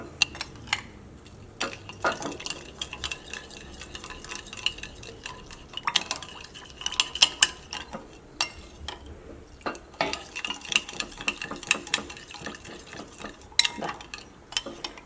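Fried chicken and noodles being tossed together in a pan, with repeated scraping and clinking of a utensil against the metal over a faint low background, steady stirring throughout and no voices.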